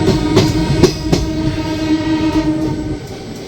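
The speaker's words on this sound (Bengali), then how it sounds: "ট্রেন কিন্তু পুরো বেরিয়ে যাচ্ছে" An ICF-coach train rumbles and clatters as it pulls away from a station, with rhythmic wheel knocks over a steady low drone that fades toward the end.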